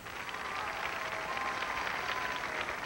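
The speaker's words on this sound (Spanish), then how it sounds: "Aplausos para la pareja número uno." A studio audience on the Sábado Gigante television show applauds couple number one, a dense, steady wash of clapping that holds at even loudness for about three seconds, with no voices over it.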